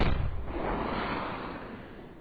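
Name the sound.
Vorona rocket launcher firing at enemy, Arma 3 video game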